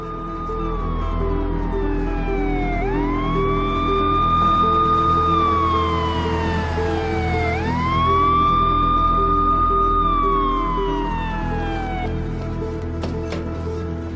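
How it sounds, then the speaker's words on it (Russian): A loud wailing ambulance siren rises and falls in long, slow sweeps, close by, over a low steady engine rumble. "Только что приехала скорая."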